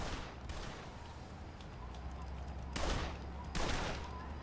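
Tommy gun bursts in the video game Blues and Bullets, several sharp bursts of rapid fire rising over a low, steady game background hum, fairly faint overall.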